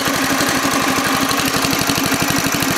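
A Honda GX140 small engine running steadily, a little smoky after service. It is a close, loud, even putt-putt chug with a rapid regular pulse and no talk over it.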